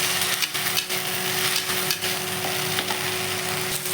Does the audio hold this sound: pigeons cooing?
no